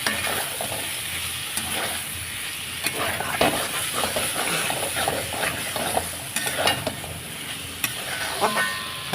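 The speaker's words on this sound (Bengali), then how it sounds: "আপেল দিয়ে একটু কষাবো মশলাগুলা" Spices and apple being sautéed in a pan for a paneer curry, a steady moderate sizzle with intermittent scraping and stirring clatter and an occasional brief bump, no talking.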